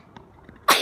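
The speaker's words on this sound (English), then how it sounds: "That was a sneeze." A single sharp, loud sneeze bursts out at the end of a short, quiet moment, close to the listener.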